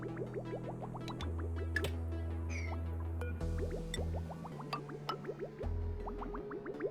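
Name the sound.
water being dumped, from video game Oxygen Not Included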